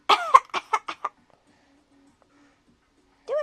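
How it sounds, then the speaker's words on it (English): A young boy gives a quick string of short, forced coughs, close and clear, then a long near-silent pause before a brief vocal sound at the end. "Do fake cough for Mama."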